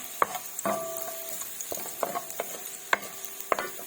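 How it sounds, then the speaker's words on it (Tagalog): Oil sizzling with fish juices in a pan for escabeche, with a faint frying hiss under sharp intermittent clinks and scrapes of a utensil stirring. "Magigisa tayo. Para nandiyan pa rin yung katas ng isda."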